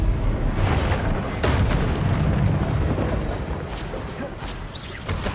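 In the video game Hogwarts Legacy, an Expelliarmus spell strikes with a booming, rumbling impact that swells loudly and then fades over a few seconds amid dense game effects.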